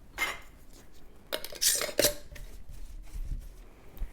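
Metal rings being screwed finger-tight onto canning jars of beetroot, heard as faint, scattered clinks and scrapes of metal on glass spread over a few seconds, up close and without speech.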